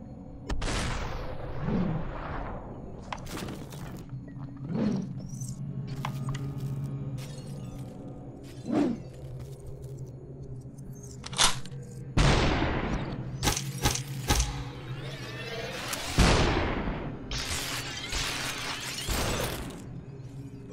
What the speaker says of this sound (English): that's a shotgun